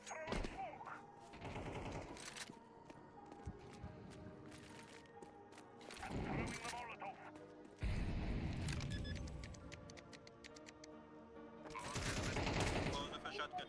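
Gunfire in Counter-Strike, including a shotgun: several loud clusters of shots and blasts separated by quieter stretches, with rapid fusillades and a few heavy booms under occasional voices.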